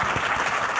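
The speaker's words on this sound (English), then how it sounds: "please give a round of applause to our panelists." A conference audience applauds panelists, a brief burst of dense clapping from a crowd in a hall, fairly loud and steady throughout.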